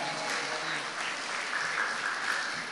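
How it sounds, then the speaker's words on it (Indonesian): An audience at a primary school's Grade 6 farewell opening ceremony in Surabaya applauds its teachers, a steady wash of many hands clapping that stays even and sustained throughout. "Aplaus untuk para ustadz-ustadzah kita"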